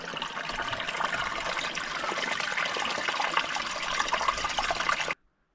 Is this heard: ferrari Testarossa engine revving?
no